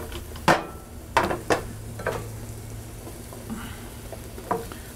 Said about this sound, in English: I'm going to saute these for maybe, 2 or 3 minutes, just until they're cooked